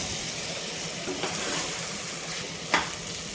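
Prawn curry being stirred in a pan, a soft steady sizzle with scraping stirs and one sharper clink near the end, heard close with no voices.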